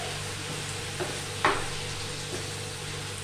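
Spaghetti mixed into sauce on a sizzler plate gives a steady soft sizzle and hiss, with a couple of brief stirring scrapes and clinks, close up.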